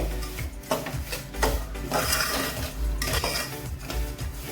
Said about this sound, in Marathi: आता मी गॅसची फ्लेम मिडियम करते आणि हा गोल्डन कलर होईपर्यंत रवा छान परतवून घेते